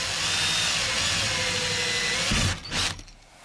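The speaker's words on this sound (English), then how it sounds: "So I'm just going to drill my pilot hole through the wood and through the metal beam." A power drill bores a pilot hole through wood and into a metal beam during a horsebox conversion, with a steady loud whine for over two seconds that then cuts out into a few short bursts.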